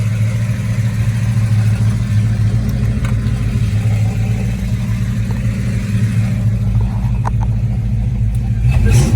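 A 1969 Plymouth Road Runner sits idling, giving a steady, loud low rumble that holds evenly throughout with no revving.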